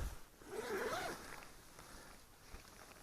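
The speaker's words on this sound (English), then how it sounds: "There's a zipper here," A zipper on a camping hammock's bottom layer is pulled open at a lean-to by a wilderness pond, one continuous rasping zip up close, fading into quiet outdoor background.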